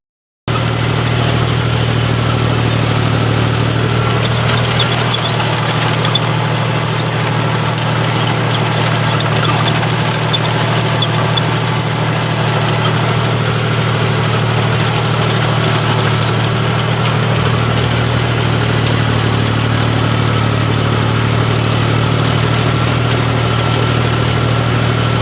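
A farm tractor's engine idles steadily and continuously with a deep, even rumble, running alone without any talk.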